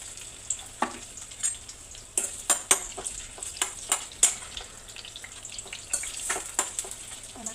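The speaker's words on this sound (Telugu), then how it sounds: "ఆనియన్స్ వేసుకుంటున్నాను." Onions frying in a pan with cumin for a Telugu-style potato fry, a soft steady sizzle with frequent stirring and scraping clicks close by, no talk.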